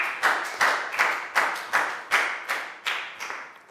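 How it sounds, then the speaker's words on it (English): A Year 4 classroom claps for a student: a steady run of about ten sharp, evenly spaced claps, close and fairly loud, with no talking. "High five and a big round of applause for Pat"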